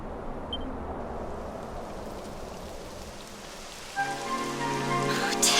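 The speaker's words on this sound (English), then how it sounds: "It would have to go and start raining, wouldn't it?" Steady rain falls in the video game Dragon Quest XI, a dense, even patter that holds throughout, with louder game sounds swelling in near the end.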